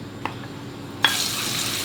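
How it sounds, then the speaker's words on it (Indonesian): Ground garlic and kencur paste drops into hot oil and bursts into a loud, continuous sizzle after a second of quiet, with a couple of soft clinks just before; no talking. "Lalu kita akan tumis dulu ini bawang putih dan kencur yang sudah dihaluskan."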